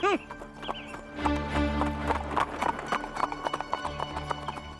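Hooves of a horse pulling an approaching tonga cart clip-clop in a steady rhythm, growing louder and nearer, with a whinny at the start and music and ambient sound underneath.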